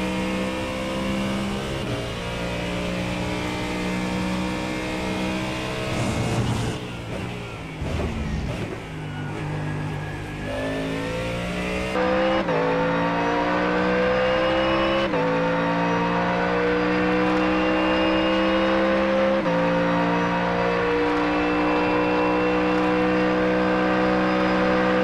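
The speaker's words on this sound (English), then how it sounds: "This car exiting the pits." A GT3 race car exits the pits at the Red Bull Ring, its engine loud and close, a sustained roar that dips briefly mid-clip before climbing back to a strong, steady rising whine.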